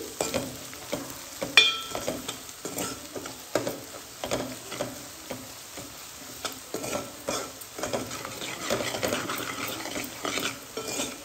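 Curry being stirred in a pan after salt and chilli go in, rhythmic scraping and clinking strokes of a spoon against the pot over a faint sizzle, close and without speech.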